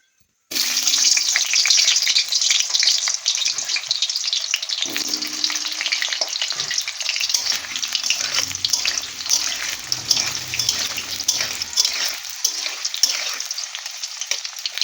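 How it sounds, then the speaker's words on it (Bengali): Onions hitting the hot oil of a kadai, a sudden loud sizzle that bursts in after a moment of quiet and then crackles steadily and close until the end. "এই যে দেখো এখানে পেঁয়াজ টেয়াজ আছে, এগুলো এখন ভাজবো"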